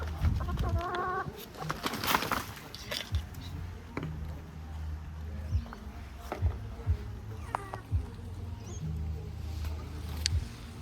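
Backyard chickens cluck in a garden, giving short bursts of throaty clucks and squawks near and far. Steady low rumbling and scattered knocks run beneath them, and faint bird calls mix in.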